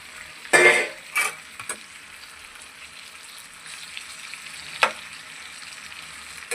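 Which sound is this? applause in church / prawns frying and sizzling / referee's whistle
prawns frying and sizzling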